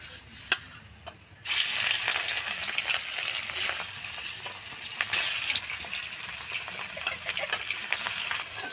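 Katla fish hits a hot pan seasoned with salt and a little chili powder, bursting into a loud, steady sizzle after a few faint clicks, and keeps frying without any talk.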